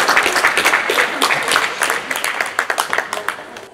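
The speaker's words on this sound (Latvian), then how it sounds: "vēlreiz aplausu, liela vēsturē aplausu" Audience applause at a Latvian ideas-contest event, steady dense clapping from a crowd throughout, fairly close and loud, with a few sharper individual claps standing out toward the end.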